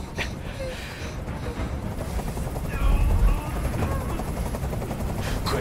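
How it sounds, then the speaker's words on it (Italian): A helicopter in the video game Detroit: Become Human thrums overhead with a steady rotor drone, joined by bursts of gunfire-like cracks and a brief low rumble near the middle. "Questo rumore mi sta facendo impazzire. Digli di mandare via quell'elicottero."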